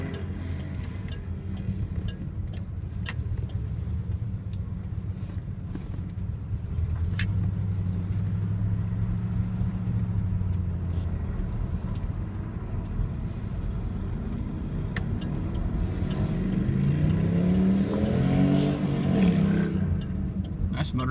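A 1971 Oldsmobile Cutlass engine rumbles steadily while driving, a low continuous drone that swells slightly as it accelerates, with road noise around it.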